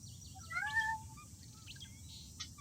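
A cat gives a faint, short meow early on, followed by a few soft chirpy sounds over a low steady background hum.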